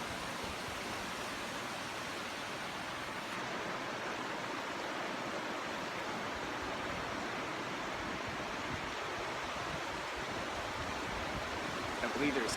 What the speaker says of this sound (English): right now I'm crossing Jennings Creek.